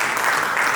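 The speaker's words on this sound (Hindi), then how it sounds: "उनके लिए मैं जोरदार तालियां चाहूंगा" An audience claps for their teacher, a dense, steady wash of applause filling the short moment without a break.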